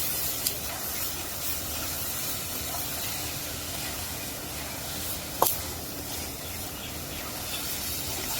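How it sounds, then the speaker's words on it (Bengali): Steady, continuous hiss and sizzle as water goes into a hot pan of pangas fish curry cooked with vegetable stems, one brief sharp clatter partway through, no talking. "এখন জল দিয়ে দিব, কষানো হয়ে গেছে।"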